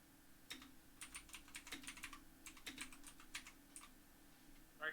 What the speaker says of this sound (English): Alright, I was typing.